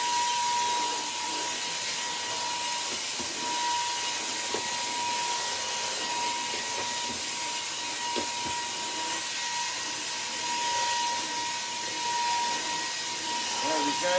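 A homemade cordless 20V brushless Hoover Hooverette vacuum cleaner runs continuously with a steady high whine and rushing airflow, holding an even loudness over fourteen seconds.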